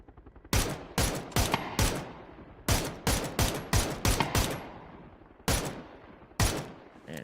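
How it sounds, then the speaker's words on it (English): Gunfire in the PUBG video game: a series of sharp, loud shots, singles and quick bursts, spaced across the clip with short decaying tails and no talk. "Man, it took so many shots."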